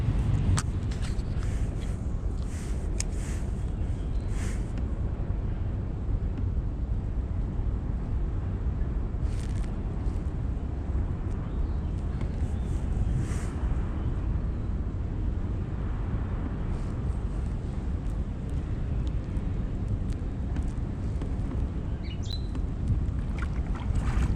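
Steady wind blowing over open river water while fishing from a boat, a dense continuous rush with low rumble and no talk, holding level throughout.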